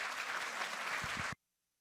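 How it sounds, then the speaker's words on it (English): A lecture audience gives a steady round of applause, a dense, even patter of many hands that cuts off abruptly into silence. "Let's give them a round of applause."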